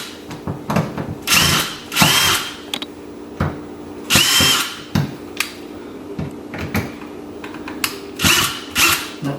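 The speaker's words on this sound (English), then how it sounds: "So now I gotta loosen the screws on these plugs I took out." A handheld power drill loosens screws on window-blind frame plugs during a patio door blinds installation, whirring in several short, loud bursts with pauses and small handling clicks between them, close up and without speech.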